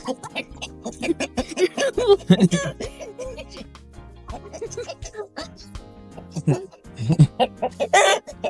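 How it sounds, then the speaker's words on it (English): A chicken clucks and squawks in agitated bursts as it is being caught on a Namibian homestead, close and loud, while people talk throughout. "No, I didn't say catch the chicken."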